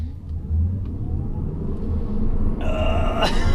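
Tesla Model 3 electric car accelerating hard on a road: a steady low rumble of road and tyre noise swells continuously, with a faint high whine rising near the end.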